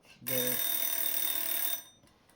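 A bright metallic bell rings continuously for about a second and a half, loud and shimmering, then stops abruptly.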